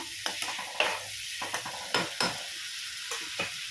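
A small tomato goes into a hot frying pan for a vegetarian papad dish and is stirred, with a spatula scraping in quick strokes over a close, steady sizzle.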